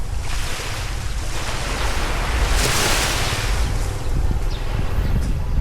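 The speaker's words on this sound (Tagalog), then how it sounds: "Kalmado, kalmado yung dagat." Calm sea waves wash steadily onto a beach at San Antonio, Zambales, a continuous close surf rush with some wind buffeting the microphone and no talking.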